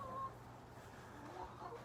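Hens cluck softly in a backyard chicken coop, faint and distant, with low, intermittent calls over a steady background hum.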